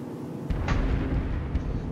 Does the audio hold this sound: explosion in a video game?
yes